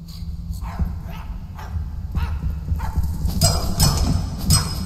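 A dog in a video game barks in a series of short yips and woofs, moderately loud over a rhythmic background of game sounds.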